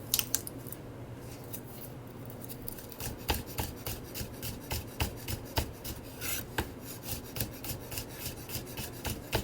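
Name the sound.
knife thinly slicing garlic cloves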